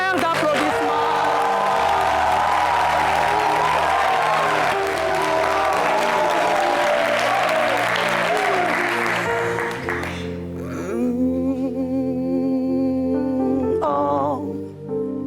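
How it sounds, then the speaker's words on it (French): Loud audience applause with cheering and whoops at a live talk show, a thick roar of clapping for about ten seconds that then drops away, leaving music underneath. "je veux entendre des tonnerres d'applaudissements"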